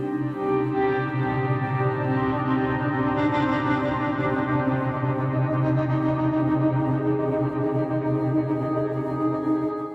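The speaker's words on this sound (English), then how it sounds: "This is a stretched and twisted take on the original Hkm edited samples run through a reverb pedal and run through stacking layers of volume modulation." Stretched, twisted pad samples from the HKM sample pack for the Kontakt full version, run through a reverb pedal and stacked layers of volume modulation, form a dense sustained drone with many steady tones throughout, played alone without talk.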